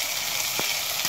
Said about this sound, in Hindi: इसे अच्छी तरह से भून लेना है। थोड़ा सा टमाटर को हमें नरम होने देना है।